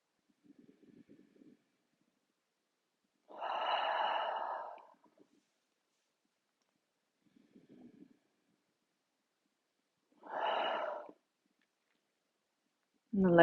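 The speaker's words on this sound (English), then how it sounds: "inhale through your nose. Exhale, sigh your breath away" Slow yoga breathing: faint nasal inhales, each followed by a louder, breathy sighing exhale, repeated in a calm, spaced rhythm with quiet pauses between, close to the microphone.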